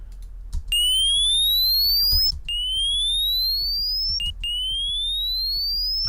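A high synth tone with slight distortion, produced for deathstep music, repeats as rising sweeping chirps in three long phrases, loud and clean over a low background hum.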